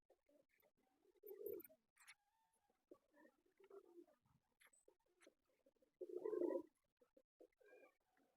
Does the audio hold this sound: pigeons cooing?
yes